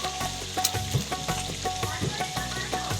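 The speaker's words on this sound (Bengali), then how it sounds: "এখন এই ধুন্দুলির তরকারিতে কাঁচা লঙ্কা ছাড়লাম" Green chilies tossed into a ridge gourd curry sizzle and fry steadily in the pan, with close stirring scrapes and clinks breaking through the continuous crackle.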